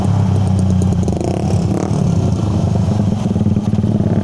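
A close, loud motorcycle engine, from a loaded Mio versus Raider 150 race setup of the A-Specs Racing Team, revs hard with a rattling, pulsing drone throughout.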